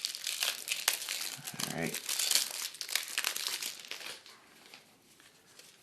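Plastic card-pack wrappers from the Maracaibo board game crinkle and crumple up close as they are torn open, the rustling dense at first and thinning toward the end, with a voice speaking briefly over it.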